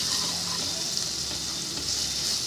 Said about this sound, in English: I'm going to fry this paste in the oil with this tadka